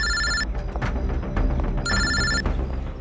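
A telephone rings with an electronic tone, two clear bursts separated by a pause, over a low musical background, with no talking.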